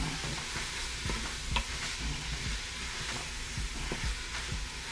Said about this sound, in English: I'm gonna add my andouille sausage. Let's get that out of the way. And we're gonna stir that up.